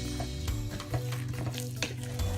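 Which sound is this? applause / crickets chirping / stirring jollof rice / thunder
stirring jollof rice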